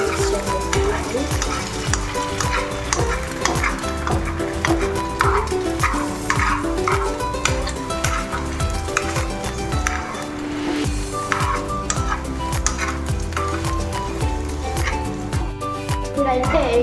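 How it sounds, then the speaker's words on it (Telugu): Noodles and eggs stirred in a frying pan give a steady sizzle with frequent scraping and tossing strokes, continuous and close, over a constant background hum. "సో ఇప్పుడైతే దీన్ని మొత్తం మిక్స్ చేసేసుకోవాలి."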